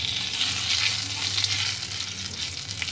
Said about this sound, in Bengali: জিরেটা ভাজা ভাজা হয়ে গেছে, জিরেটা একদম ভাজা হয়ে গেছে